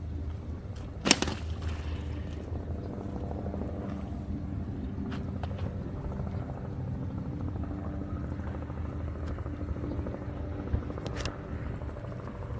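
A cordless X2 robotic pool cleaner runs in a pool, giving a steady low motor hum and churning water noise throughout, with a couple of brief clicks and splashes standing out above the constant drone.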